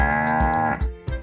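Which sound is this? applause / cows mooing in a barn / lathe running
cows mooing in a barn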